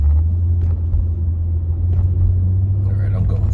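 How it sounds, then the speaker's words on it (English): Steady low road rumble of passing motor traffic fills the scene, loud and continuous, with a few brief vehicle swells and faint background voices on top. "lots of needless traffic here."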